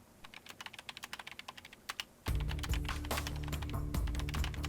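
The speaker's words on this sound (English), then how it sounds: "fingers flew over the keyboard" Rapid typing on a computer keyboard in a video game, a quick run of crisp close key clicks that continues under a loud, steady game background sound.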